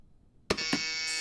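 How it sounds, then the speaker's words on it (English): A loud, harsh electronic buzzer cuts in abruptly after a short silence, with a brief stutter, then holds steady as a sustained raspy drone until the end, alone with no talk. "that's my buzzer sound"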